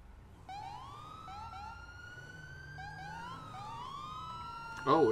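A police siren in a video game wails steadily with rising and falling sweeps, joined by a second siren tone, ending in a sudden louder electronic chirp burst.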